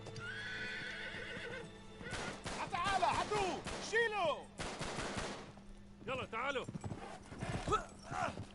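Horse hooves clip-clop in the Uncharted 3 video game, mixed with whinnying and bursts of gunfire. Voices talk over the game sounds throughout.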